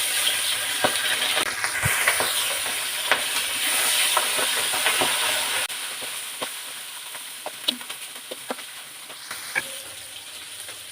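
Tengra fish frying in hot oil, a loud steam-like hiss that settles to a quieter level midway, dotted with sharp pops and crackles, close and without any voices.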